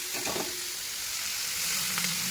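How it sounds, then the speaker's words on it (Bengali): Boiled Maggi noodles fry with spices in a pan, giving a steady close sizzle and a couple of soft stirring scrapes, with no talking. "এখন আমাদের ম্যাগিটা হয়ে যাচ্ছে"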